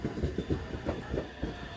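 A panda-painted train at Kii-Arita Station rolls past with faint, evenly spaced clickety-clack thumps of wheels over rail joints, quiet and somewhat distant, with no talking.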